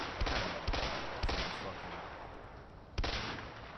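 Four heavy single shots from an M14 rifle in the video game A Way Out, spaced irregularly over a few seconds, each a loud sharp crack with a rolling tail and no talk over them.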